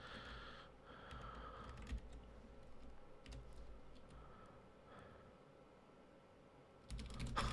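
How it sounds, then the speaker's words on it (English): Quiet clicking of typing on a computer keyboard, irregular keystrokes spread through the clip at moderate distance, with a brief louder burst of activity near the end. "I'm like typing and doing this"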